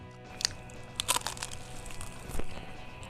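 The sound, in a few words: biting crunchy pork cracklin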